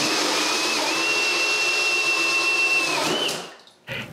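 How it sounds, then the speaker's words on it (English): A drill bores holes through plywood for a bathroom vanity, a steady high whine running about three seconds at close range before winding down, followed by a brief final burst. "I'm able to drill the actual plywood."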